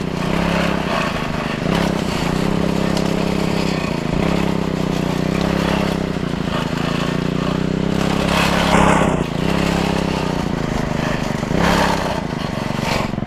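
A motorized sprayer's engine runs on a farm with bitter gourd crops, a loud, close, steady droning hum with slight shifts in pitch throughout.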